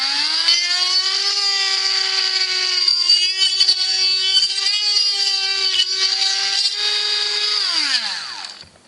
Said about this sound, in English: I'm just going to drill out this